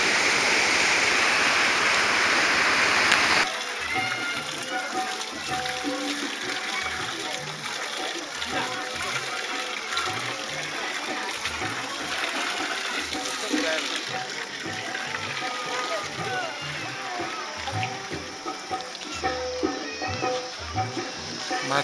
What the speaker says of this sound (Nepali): यो चाहिँ टाढी खोला हो,